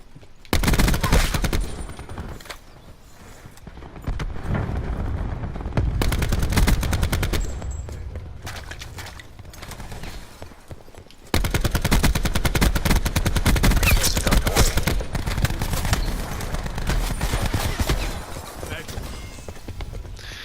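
Assault rifle gunfire in Black Ops 4 multiplayer, loud rapid automatic bursts in several stretches separated by short pauses, with some talk mixed in.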